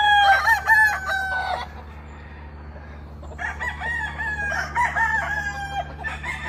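Black roosters crowing on a farm, a loud nearby crow followed by a pause and two more drawn-out crows, with faint clucking between.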